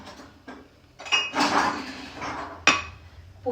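Dishes and cups clink and knock together close by at a kitchen stove during tea serving, with a few sharp ceramic and metal clinks spaced among quieter handling noise, and no talk.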